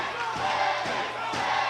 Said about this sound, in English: I hear a little Cedric, I hear a little Eddie, both in those chants